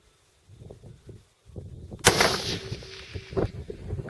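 A long-range rifle shot at a 761 m steel target: a sharp, loud crack midway, then a lingering rumbling echo, preceded by soft handling thumps and quiet rustling.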